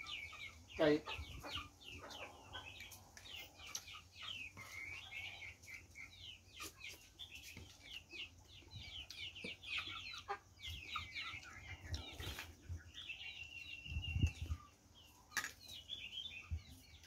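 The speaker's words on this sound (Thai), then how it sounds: "ไก่" Chickens cluck repeatedly at a rural Isan farmhouse in northeastern Thailand, with scattered calls and some wing flaps, fairly close and moderately loud, while a person talks intermittently.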